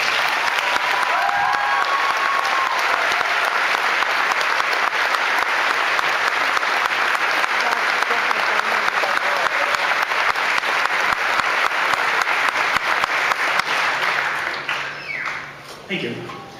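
Loud, sustained applause from a large audience at a high school graduation ceremony as honor society members stand, a dense unbroken roar of clapping that tapers off near the end.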